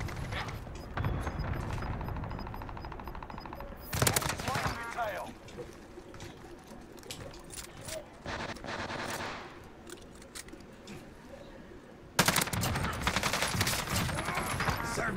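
Rapid bursts of automatic gunfire and weapon handling in Call of Duty Warzone on Rebirth Island, with loud volleys at the start and near the end, a busy battle mix in between.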